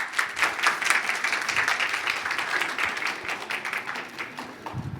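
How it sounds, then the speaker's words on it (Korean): A conference audience at the SOVAC 2019 Social Value forum applauds as a session moderator is introduced: dense, sustained clapping from many people, moderately distant, fading slightly toward the end. "큰 박수 부탁드립니다."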